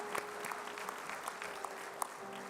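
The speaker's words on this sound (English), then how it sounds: "Perhaps a round of applause for those." An audience at the Peoria Area Sterling Merit Awards 2023 gives a round of applause, steady clapping from a moderately sized crowd in an indoor hall.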